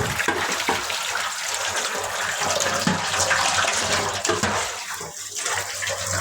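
Running water from a tap splashes steadily over a pot lid being washed in a home kitchen, a continuous close gush with small clatters and shifts in the flow.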